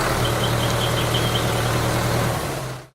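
A tractor engine runs nearby with a steady low rumbling drone and a faint higher whine, holding constant before cutting off abruptly at the end.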